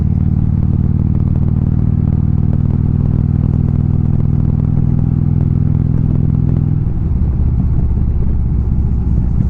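A Harley motorcycle engine rumbles loud and steady while riding through East Bay canyon roads, its low throb holding even before the tone drops into a rougher, lower note near the end.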